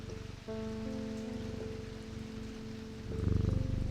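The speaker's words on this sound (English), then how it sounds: "listen to that purring" A soft, continuous purring from a cat in the video game Strange Antiquities plays steadily with a faint tonal backdrop, rising a little near the end.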